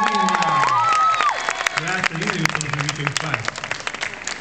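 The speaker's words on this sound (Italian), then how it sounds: "vi facciamo un applauso" Dense clapping from a crowd at a Tuscan Franciscan festival in Marciana Marina, loud and steady, with a voice speaking over it and a few shouts rising above the applause.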